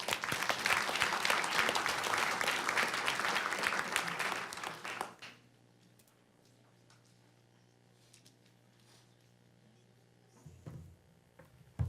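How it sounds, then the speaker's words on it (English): At a board reception, an audience claps loudly and steadily for a councilman for about five seconds, then the applause cuts off, leaving a quiet room hum and a few faint stray sounds. "let's give him a round of applause"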